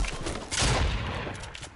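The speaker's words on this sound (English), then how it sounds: "they're shooting up on the mountain" Video game gunfire from players shooting up on a mountain, a burst of distant, muffled shots blending into a rough rumble over about two seconds.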